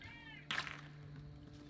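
A voice imitates a cat's meow once in a short, bright burst during a fantasy video game, with a steady low background hum before and after.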